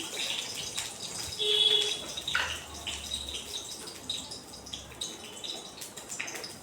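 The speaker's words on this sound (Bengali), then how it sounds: "দুটো লঙ্কা দিয়ে দিলাম ফোড়নে" Two green chillies sizzling in hot oil for tempering a vegetarian lati paturi, a soft, steady hiss and crackle with a few brief louder bursts, close by.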